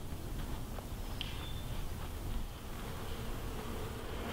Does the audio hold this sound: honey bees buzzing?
yes